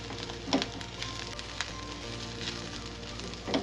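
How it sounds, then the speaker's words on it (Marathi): Sesame seeds and poppy seeds roasting in a hot pan give a soft, steady crackling sizzle with a few louder pops, heard close and alone. "दोन चमचे तीळ घालूयात आणि एक लहान चमचा खसखस आता हे आपण छान परतून घेऊया"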